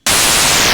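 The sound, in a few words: bit destruction effect on Blip Box iOS drum synth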